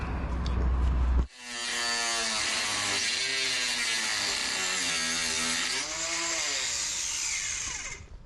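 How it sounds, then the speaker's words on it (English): An angle grinder fitted with an inox blade cuts into an aluminium sailboat mast, starting abruptly into a loud, sustained whining screech whose pitch wavers as the blade bites, close and alone without talk. "We didn't want to go with the angle grinder to start with because we're scared we're going to damage the mast."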